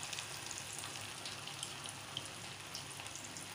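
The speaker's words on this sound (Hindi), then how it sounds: "ये फिश फ्राई हो रही है जी" Fish deep frying in hot oil, giving a steady, dense crackling sizzle with small scattered pops, close and continuous throughout with no voices.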